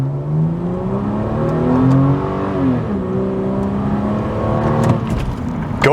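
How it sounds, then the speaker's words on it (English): A Ford Falcon XR6 with the Barra engine revs hard while driving, pitch climbing and dropping through a couple of surges, loud and close from inside the car. "Driving the Ford Falcon XR6, let's open up the mighty Barra."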